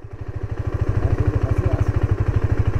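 A motorcycle engine runs close and loud, a rapid, even pulsing idle-like throb with a mechanical clatter on top, steady throughout with no voices.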